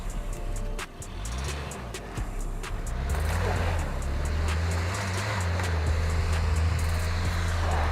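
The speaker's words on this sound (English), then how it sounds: "The Santa Fe arrives at the first pothole, and it is visible how the loaded front right wheel is spinning in the same place" A Hyundai Santa Fe SUV rolls toward a pothole on a test course, its engine droning low and steady, rising into a louder sustained rumble with tire and road noise building over the final seconds.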